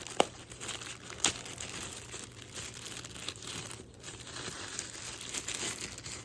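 Package from RCB Philippines being opened by hand, soft crinkling and rustling of plastic wrapping with a couple of sharper tearing snaps, close and quiet.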